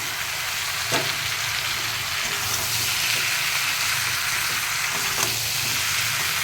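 Tomato tossed into a hot pan of spiced Bengali liver curry, frying with a steady close sizzle and hiss, with a couple of faint stirring knocks.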